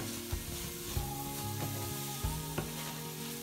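Malvani wet jawla, tiny shrimp, sautéed with onion and oil in a pan, a soft continuous sizzle with a few light taps and scrapes of a stirring spoon, fairly quiet and close, no talking.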